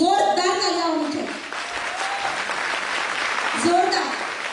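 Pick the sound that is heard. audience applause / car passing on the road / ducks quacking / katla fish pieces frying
audience applause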